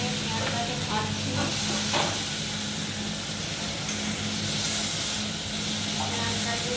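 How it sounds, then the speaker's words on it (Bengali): Onions fry in hot oil for peyaj posto, giving a dense, continuous sizzle and hiss over a low hum. A few faint knocks come through the sound, and a voice can be heard faintly in the background. "তেলের উপরে প্রথমে পেঁয়াজটাকে তুলে দিলাম, তুলে দিয়ে প্রথমে পেঁয়াজটাকে ভাজছি।"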